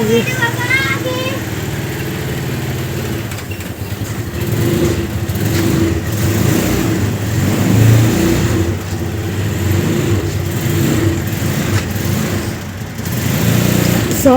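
A vehicle arrives at a house with its engine droning and revving steadily close by, a continuous rumble running under lively family voices talking over it.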